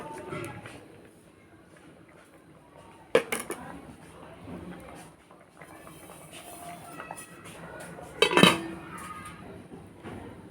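A spoon stirs lentil dal in a cooking pot, giving soft scraping and a few sharp clinks against the pot amid kitchen sounds.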